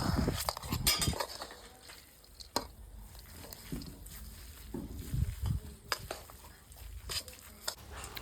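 Sukhadi being stirred with almonds and cashews in a pan, giving soft scraping and clinking of a spoon against metal with faint squishy textures, close and moderately loud with irregular strokes.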